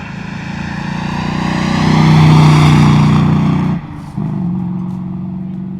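Loud engine roar from a 1969 Ford Mustang Mach 1 building as it approaches, peaking, then abruptly shifting tone as it passes and continues away at a steady, slightly lower rumble.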